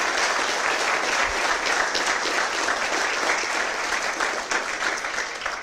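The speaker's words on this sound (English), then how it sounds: "Folks, I want to say a big round of applause to all the speakers." An audience at a panel event applauds the speakers, with steady, dense clapping that stays loud throughout before easing slightly at the end.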